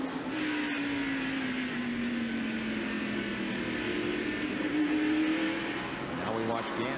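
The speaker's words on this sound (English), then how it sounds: "Watch Gant move to the inside, but the 57 car, Jimmy Spencer, is right there" Stock cars racing at the 1990 Goody's 500 NASCAR event, a steady loud roar of engines droning continuously with a car's pitch sweeping past, under an announcer's race commentary.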